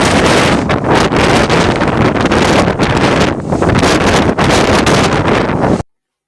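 Strong, chilly wind near the Acropolis in Athens roars loudly and steadily across a microphone, buffeting in continuous gusts for about six seconds before cutting off abruptly.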